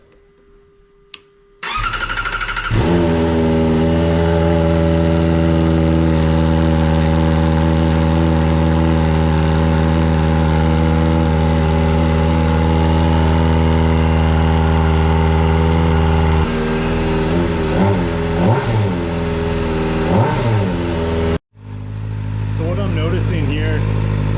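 A Kawasaki ZX-4RR with a Yoshimura AT2 slip-on exhaust cranks and fires up from cold, then settles into a steady, loud idle with a deep throaty rumble and a few brief blips of throttle.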